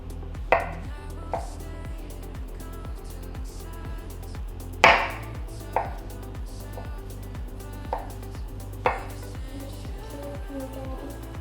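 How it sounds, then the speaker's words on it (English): Knife cutting small slices into a raw salmon fillet on a board, about six soft sharp knocks spaced irregularly over a low steady background hum. "I'll cut little slices like that."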